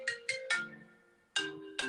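A phone ringtone plays in short bright electronic bursts, three quick tones, a pause, then two more, fairly quiet and alone.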